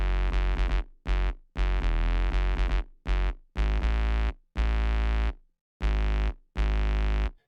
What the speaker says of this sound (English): I've got my sub bass, and this is a patch that I've made in Zeta 2